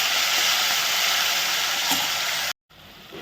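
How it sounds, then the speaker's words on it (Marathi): Garlic and cumin frying in a hot oil tempering give a loud, steady broadband sizzle for about two and a half seconds, then a sudden brief silence before the sizzle resumes more quietly. "लसूण छान फ्राय झाला"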